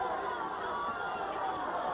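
A boxing crowd at the 1995 Tom Johnson vs Manuel Medina title fight cheers on Boom Boom: a steady, dense roar of many voices that holds at an even level throughout without a break.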